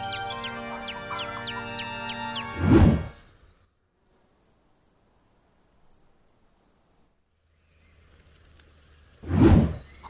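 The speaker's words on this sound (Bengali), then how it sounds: "সুমনের বাড়ির উঠোনে কয়েকটা মোরগ ঘুরে বেড়াচ্ছে" Cartoon roosters and chickens cluck in a village yard with short, animated bird calls, two soft thumping bursts and a steady cricket chirr behind them.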